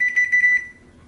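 A kitchen timer being set to 15 minutes gives a quick run of sharp, high electronic beeps close by in a kitchen during bread-dough making, then stops into quiet room noise.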